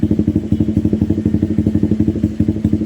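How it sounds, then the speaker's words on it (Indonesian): A motorcycle with a weak, draining battery idles close by, its engine chugging in a steady, rapid rhythm of loud, even pulses with no talking. "Jadi motor sudah hidup"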